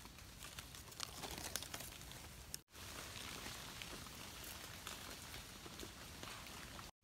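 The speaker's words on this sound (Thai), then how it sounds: "โอ้ฝนตก" Steady rain falls through a forest during mushroom foraging and spatters onto bare soil, a dense, even patter that runs close and continuous, broken only by two brief gaps.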